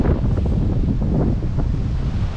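Sea waves churn against a shore heaped with thick foam, with strong wind buffeting the microphone in a steady, loud roar and no voices.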